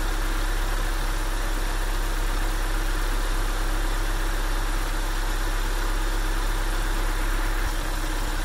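A Mazda B2000 four-cylinder pickup engine idles steadily at about 1,000 rpm, a continuous close, even rumble with a light vibrating hum and no talk over it.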